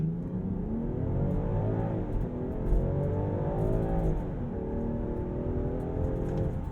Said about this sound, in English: I want to see how quick the Defender gets to 60